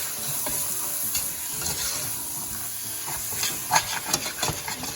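Sliced tomatoes sizzle and fry steadily in a pot of red kidney bean curry, with close stirring scrapes and a few louder clinks near the end.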